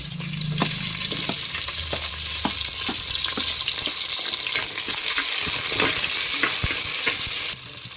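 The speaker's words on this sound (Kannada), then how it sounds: "ಇವಾಗ ಒಂದು 3 ಈರುಳ್ಳಿನ ಸ್ಲೈಸಾಗಿ ಕಟ್ ಮಾಡ್ಕೊಂಡು ಹಾಕ್ತಾಯಿದ್ದೀನಿ." Sliced onions sizzle and fry in a hot pan for a fenugreek-seed sambar, a loud continuous crackle with close stirring scrapes throughout, no voices.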